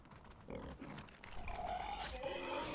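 Pig grunting in the survival game Atlas, a few short, fairly close snorts and grunts standing alone over quiet in-game ambience.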